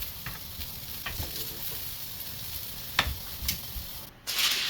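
Vegetables are added to a roasting pan holding beef shank, making a steady close hiss with a few soft knocks and taps, and a brighter rustle near the end.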